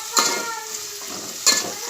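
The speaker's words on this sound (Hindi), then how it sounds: "प्याज हम नरम होने तक ही तलेंगे" Onions fry over full heat in a pan for Maharashtrian kanda pohe, a steady close sizzle with two sharp bursts where a spoon stirs and scrapes the pan.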